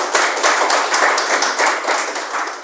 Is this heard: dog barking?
no